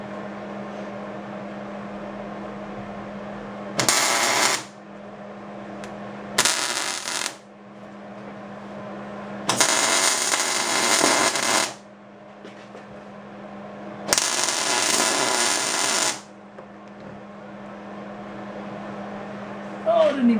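Tack welds on a ball joint modification for a Datsun 521, four bursts of crackling arc each lasting about one to two seconds, separated by a steady low hum.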